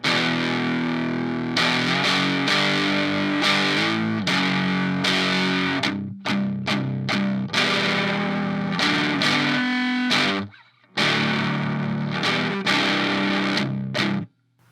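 Heavily distorted electric guitar riffs through a Donner Extreme Driver pedal in tube mode, with chugging palm-muted chords in a steady rhythm and brief silent stops between phrases.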